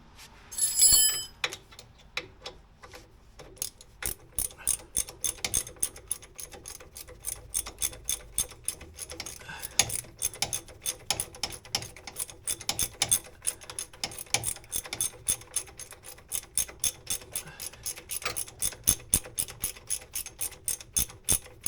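A ratchet tightens a bolt on the front air ride suspension of a 1962 Oldsmobile, ticking in long steady runs of close, crisp clicks that repeat nearly continuously.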